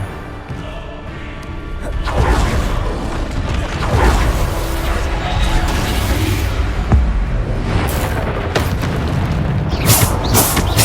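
In the game Hogwarts Legacy, a Bombarda blasting spell goes off amid combat, with loud booming blasts, rumbling crashes and clattering debris over a dense, continuous battle din.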